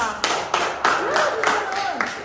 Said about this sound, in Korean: 그럴 때 우리가 박수 한번 쳐보자